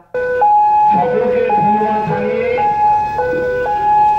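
A loud trauma-care ambulance siren wails nearby in Berhampore, switching back and forth between two tones, with traffic noise underneath.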